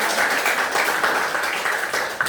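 Classroom audience clapping together after a lesson, a steady dense patter of many hands sustained throughout without pause.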